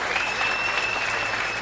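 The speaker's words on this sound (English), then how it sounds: "let that ripple of applause go" An audience applauds at the Australian Songwriters Hall of Fame induction, an even, moderately loud ripple of clapping with a faint high whine running steadily through it.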